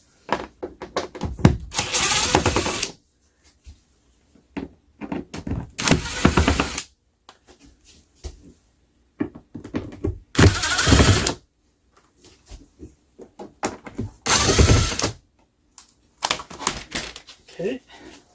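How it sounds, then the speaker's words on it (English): A power drill whirs in repeated short bursts as screws come out of a Winnebago RV air-conditioner plate, each burst loud and close, with someone talking in the pauses. "Let me take these screws out."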